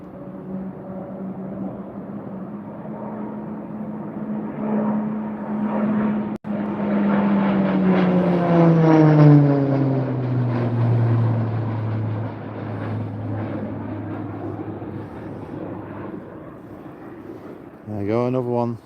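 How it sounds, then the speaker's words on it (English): A Texan propeller trainer aircraft roars through the Mach Loop valley, its droning engine swelling loud as it passes close and then dropping in pitch as it recedes, with a brief knock partway through and a fresh noise burst at the end. "I think I can hear a Texan coming through again."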